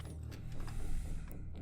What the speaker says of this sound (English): take the doors and untab them from the back there and open them up, slide them back and open them all the way